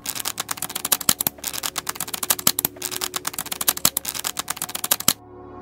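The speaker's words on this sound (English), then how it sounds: "now we are dealing all the cards one after the other" A deck of playing cards dealt one after another onto a surface: a fast, steady run of sharp, close clicks and snaps lasting about five seconds, then stopping abruptly, with no talk.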